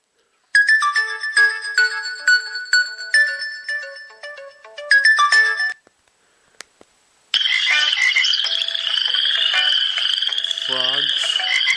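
Frog croaking phone ringtone: a rapid series of bright, tonal croak-like pulses repeated in bursts, a brief pause, then a denser burst of ribbity croaks, clear and close with no talk.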